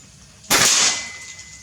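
A single sharp crack from an FX Crown 500 cc air rifle fired at a needle target, close and loud, with a brief fading tail in a quiet setting.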